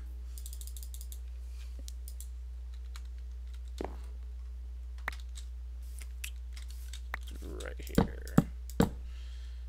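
Mouse and keyboard clicks while playing Minecraft survival: sparse single clicks over a faint hum, then a quick cluster of louder, sharper clicks near the end, with a low voice murmuring in places.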